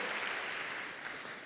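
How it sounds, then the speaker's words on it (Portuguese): Church congregation applauding during a Portuguese-language communion service, a steady, fairly faint wash of clapping heard from a distance and fading slightly toward the end. "Dê uma salva de palmas bem forte a Ele."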